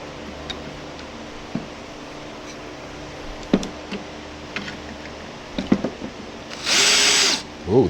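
A cordless 20V brushless drill drives a screw into wood in a home shop. Scattered clicks and taps of handling lead into one short, loud whirring burst near the end.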